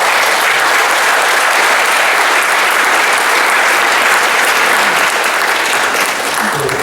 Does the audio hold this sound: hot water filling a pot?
no